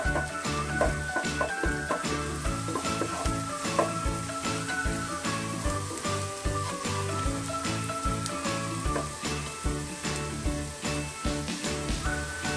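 Onions fry in a hot pan for an achari chicken roast, a loud steady sizzle broken by regular scraping stirs throughout, with no talking.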